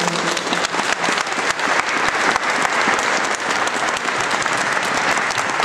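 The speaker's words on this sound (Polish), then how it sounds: "wielkie brawa dla nich." A concert audience claps loudly and steadily in a full, dense round of applause that continues throughout with no talk over it.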